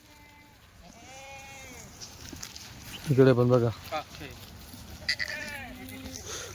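Kathiawadi goats bleat in a livestock market, with several wavering cries from different animals, one loud burst near the middle and others further off, mixed with people talking.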